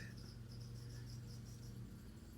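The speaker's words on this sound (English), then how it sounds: "Ooh, this cricket, where did it come from?" A live feeder cricket offered to a Lasiodora striatipes tarantula chirps in a quick repeating trill, faint and close against low background hum.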